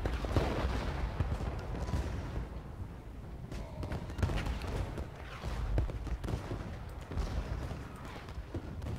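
Musket volleys and artillery fire in the Civil War game Ultimate General Gettysburg form a busy, constant battle soundscape. Crackling rifle fire is mixed with dull booms and thuds over nine seconds, fairly steady, with no talking.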